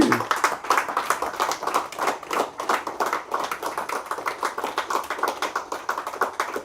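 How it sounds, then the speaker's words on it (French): A church congregation claps steadily in a fast, even rhythm, a dense continuous patter of many hands heard from a moderate distance with faint voices underneath. "Applaudissons pour Jésus."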